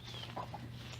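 A rooster gives a couple of brief, soft clucks at moderate distance outdoors, faint over steady background noise.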